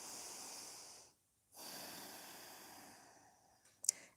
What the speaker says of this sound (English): Inhaling and exhaling through your nose.